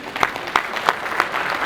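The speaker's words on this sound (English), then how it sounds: "A good clap for our panelists" Conference audience clapping for a panel at an African disability inclusion conference, a steady round of applause with a few louder claps standing out, heard fairly close with no talking over it.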